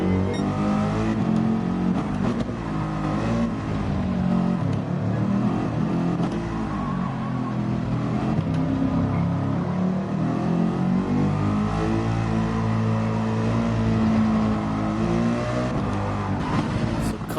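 Loud, sustained roar of a Porsche GT3 race car engine in a racing video game during a GT3 league race, its pitch rising and falling through gear changes as it accelerates, close and continuous throughout.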